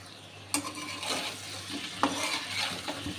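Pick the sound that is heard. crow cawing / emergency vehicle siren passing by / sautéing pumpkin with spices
sautéing pumpkin with spices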